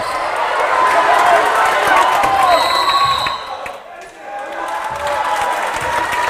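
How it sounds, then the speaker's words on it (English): At a boys JV high school basketball game against Chittenango, the home crowd and student section roar steadily for the Lakers, dipping briefly midway before swelling again, with a commentator talking over it. "the crowd is really getting behind the Lakers here"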